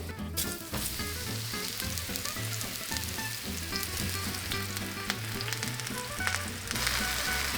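Mushrooms frying in a pan with extra virgin olive oil and browned garlic cloves, a steady dense sizzle with faint stirring clatter, close and continuous, with no talking.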